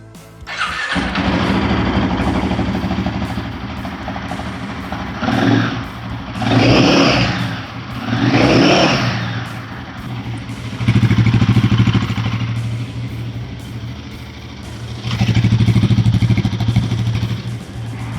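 A Royal Enfield 450 motorcycle, a Guerrilla 450 or Himalayan 450, starts up close by, settles into a thumping idle and then gives a few loud revs with its exhaust note rising and falling.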